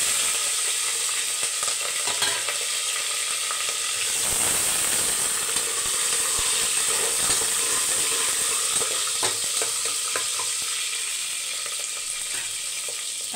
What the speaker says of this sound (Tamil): இப்போ காஞ்ச மிளகாவை 2ஆக போட்டுக்கலாம். மிச்சதெல்லாம் அப்படியே சேர்த்துக்கலாம்.